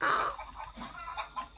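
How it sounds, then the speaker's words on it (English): Video game chickens cluck in several short, quick bursts, fairly close and clear, with little else around them. "Oh wait, the chickens are still here."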